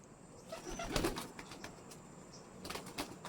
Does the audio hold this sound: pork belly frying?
no